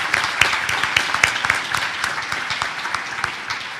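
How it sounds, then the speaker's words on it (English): A community crowd at a donor celebration breaks into steady applause. The clapping is fairly close and moderately loud, with a few sharper individual claps standing out against the dense wash. "Now you can applaud."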